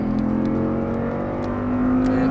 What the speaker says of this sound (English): And on the throttle now. That's it. And upshift.